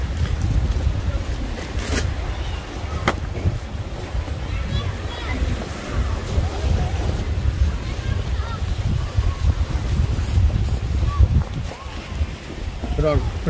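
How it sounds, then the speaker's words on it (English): Breezy wind at an outdoor picnic park in Greenpoint, gusting and buffeting in a low rumble throughout, with a few sharp thumps against the microphone. "It's a little breezy here, yeah."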